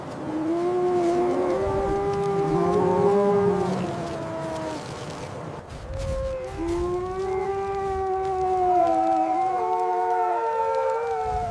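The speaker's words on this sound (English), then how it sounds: "One wolf gets caught in a trap and starts howling." Trapped wolves in a Siberian snowstorm give long, sustained wailing howls, several voices overlapping in rising and falling tones, loud and close, with a brief pause midway before the howling resumes.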